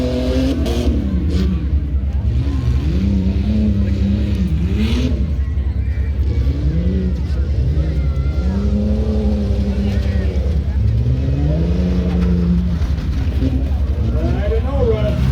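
Tough truck engines at the Northwestern Michigan Fair competition rev hard with rising and falling pitch sweeps over a constant loud roar, as trucks accelerate and bog down on the track, with crowd noise throughout.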